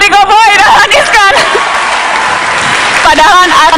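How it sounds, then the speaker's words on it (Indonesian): Studio audience applause breaks out and fills the clip, with people talking loudly over it at the start and again near the end. "Tepuk tangan dong Menteri Koboi, Anies-kan."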